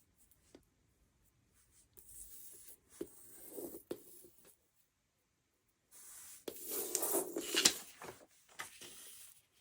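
Cardboard picture puzzle pieces for a children's lesson being turned over and fitted together, giving quiet scattered rustles and small taps in short bursts, busiest near the end, close by with no talking.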